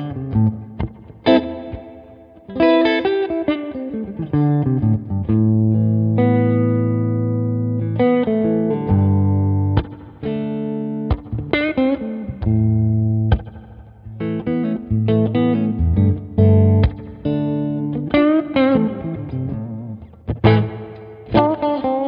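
Electric guitar played through the '63 Spring reverb on a Line 6 M5 effects pedal: a loud solo melodic line of plucked notes and short phrases, each trailing off in a splashy spring-reverb wash, with no voices.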